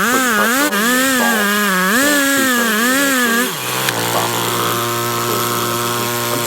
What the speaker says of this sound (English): Basically, I'm cutting the first board without top rail.